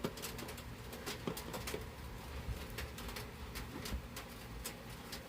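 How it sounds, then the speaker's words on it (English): Rain pattering against the siding of a house, a dense, continuous spray of sharp taps with irregular louder drips, steady and close throughout, with no voices. "The rain hitting the siding."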